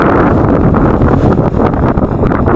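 Strong northeast monsoon wind buffets the microphone in loud, continuous roaring gusts with a rough low-heavy rush, no speech over it.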